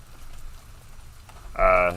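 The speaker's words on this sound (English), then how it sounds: "is it raining there? Dude, yeah, it's raining, man." Rain falling in North Carolina, a faint, steady patter under background hiss, cut off near the end by a sudden loud burst of a voice.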